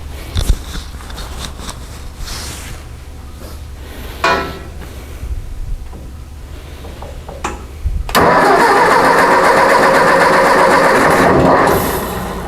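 A Ford 600 tractor engine with a carburetor needing adjustment cranks loudly and unevenly, catching briefly, then turns over in a steady, roaring run for several seconds before it cuts back, with no one talking.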